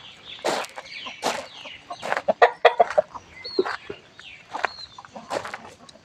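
Chickens cluck and squawk in the grounds of a temple in Lampang, a close series of sharp, uneven calls and short bursts with light footsteps between them.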